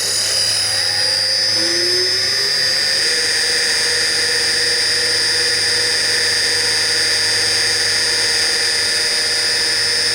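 The spindle of a DCM IG 180 SD vertical-spindle CNC rotary surface grinder whines steadily and loudly, its tone rising briefly at the start as it comes up to 2300, then holding a constant hum.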